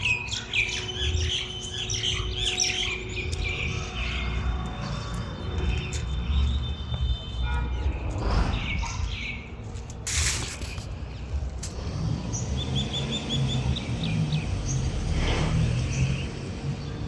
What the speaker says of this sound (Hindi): ध्यान से चिड़ियों की चहचहाहट आप सुनना सुबह सुबह